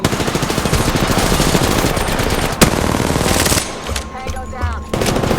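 Sustained rapid automatic gunfire from the shooter game Apex Legends, loud and dense, with one sharp crack partway through and a brief dip before firing resumes.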